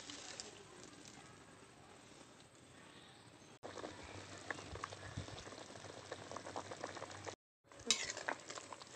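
Spiced potato broth for a thin village-style katla fish curry bubbles at a steady boil in a pot, a dense, close simmering hiss that cuts out briefly near the end before resuming.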